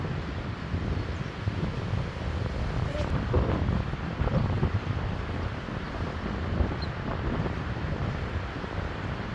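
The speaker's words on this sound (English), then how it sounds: "Still pretty windy down here." Strong, steady wind from Cyclone Belal in Flic en Flac, Mauritius, buffets the microphone with a constant roaring rumble and gusty surges throughout.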